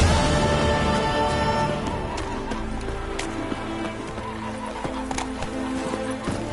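Roach, a horse in a video game, gallops with steady hoof clip-clops and lets out neighs over a dense musical game soundtrack, loud and continuous throughout.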